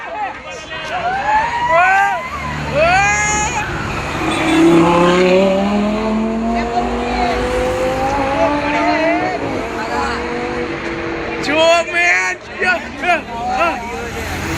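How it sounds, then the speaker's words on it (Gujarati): Lamborghini, Audi and Porsche supercars drive past on a Mumbai street, their engines rising and falling loudly in repeated sweeps over crowd chatter, with people talking nearby. "લેમ્બોર્ગિની, ઓડી ગઈ, પોર્શ ગઈ."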